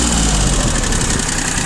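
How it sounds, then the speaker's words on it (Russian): An Iseki TU1500 four-wheel-drive Japanese mini-tractor with a three-cylinder K3B engine and a rotary tiller runs steadily at raised revs, a loud, close, continuous rumble with no voices. "Сейчас нажму на газ, покажу, как обороты берет двигатель."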